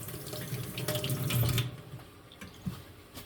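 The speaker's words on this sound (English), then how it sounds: "now we're going to rinse hands just for a second" Hands are rinsed under a running kitchen tap for a second or two, a close steady water splash that fades as the flow stops, followed by soft handling noises.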